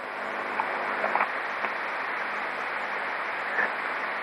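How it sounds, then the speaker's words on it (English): Computer fans hum steadily in the background of a radio shack, a smooth, even broadband whoosh with a few faint ticks and no speech. "If I have the downward expander turned off again, you can hear the fans in the background"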